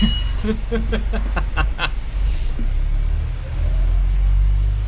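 Diamond bus in Manchester driving along the road, a steady low engine rumble with a brief series of rhythmic mechanical clicks early on and the drone swelling slightly toward the end.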